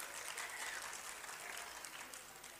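An audience claps steadily for quiz teams at a talent hunt program in Karachi's Arts Council, a faint, even patter of applause heard from a distance with no voices over it.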